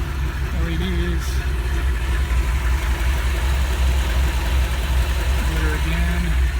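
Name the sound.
1973 Ford Bronco engine running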